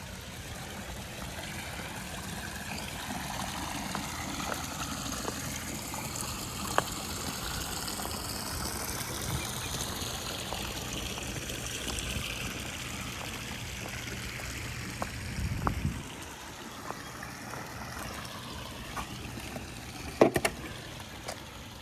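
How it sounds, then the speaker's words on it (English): Acid poured in a column into a swimming pool, a long steady trickling water sound at moderate distance with a few splashes and a slight gurgle toward the end. "When you column pour acid, it goes to the bottom."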